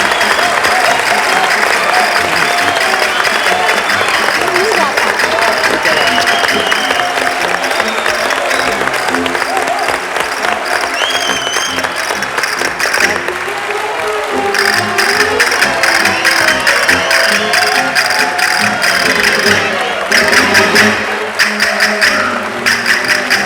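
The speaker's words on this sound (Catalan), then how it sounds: "anem a rebre amb un aplaudiment el nostre convidat d'avui" Studio audience applauding on a Catalan television variety show as the guest, Lola Flores, is welcomed; dense, steady clapping fills the room throughout, loud and continuous with a slight swell near the end.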